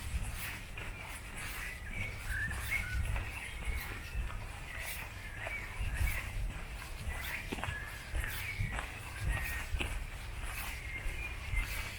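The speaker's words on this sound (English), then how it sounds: "Got some nice bird action here. That's always nice to hear. Some Tweety birds." Small birds chirping in an East German cemetery, faint scattered calls in a quiet outdoor setting with soft rustles and occasional footstep-like ticks.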